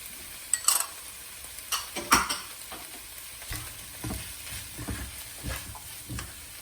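Coriander, green chilies and ginger garlic stirred in a frying pan over medium flame, a continuous sizzle broken by repeated spatula scrapes and a couple of sharp metallic taps.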